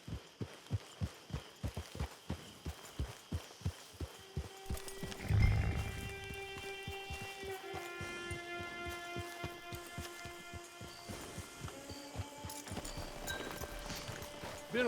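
Steady clip-clop of horse hooves in Red Dead Online in an even rhythm, with a brief louder thump partway through and a faint sustained musical tone underneath.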